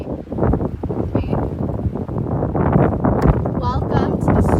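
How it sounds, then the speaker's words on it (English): Gusty wind buffets the microphone outdoors during a mountain yoga session, loud rumbling bursts mixed with a voice speaking underneath. "It's got really windy."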